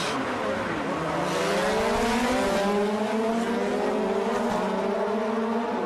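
GRC Lites rallycross race cars launch at the start of a final at New Hampshire Motor Speedway, engines loud and rising in pitch together as they accelerate away, with commentary talk over the roar.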